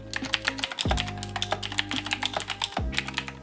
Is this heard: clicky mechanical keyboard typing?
yes